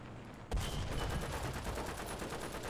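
A tank's machine gun in War Thunder opens fire with a sudden onset, then rattles in a rapid, steady burst that runs loud and continuous to the end.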